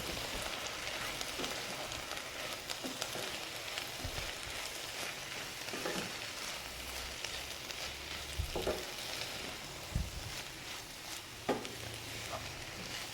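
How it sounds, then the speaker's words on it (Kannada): Ivy gourd stir-fry with grated coconut being stirred in a pan gives a steady, soft sizzle throughout, broken by a few sharp scraping taps of the spoon against the pan, with no voices. "ತೆಂಗಿನ ತುರಿಯನ್ನು ಕೂಡ ಹಾಕ್ತಾ ಇದ್ದೇನೆ ಇನ್ನು ಚೆನ್ನಾಗಿ ಮಿಕ್ಸ್ ಮಾಡಿದರೆ ಆಯಿತು"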